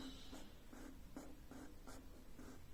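A pen draws strokes on paper while a stair section for a 4x7 staircase is sketched, giving five or six short, close scratchy strokes spaced at a steady rhythm over a quiet room hum.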